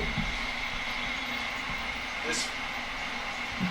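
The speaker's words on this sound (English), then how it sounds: "this freight pulling in now is a loaded PFE fruit train" A loaded model freight train, a PFE fruit train on a Donner Pass layout, rolls in with a steady rumbling hum and a sustained whine, plus a brief squeal midway; someone talks over it.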